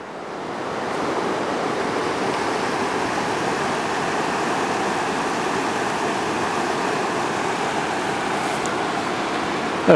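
River rapids rushing steadily at a crossing point, a dense, even roar of flowing water that stays loud and unbroken throughout, with no voices.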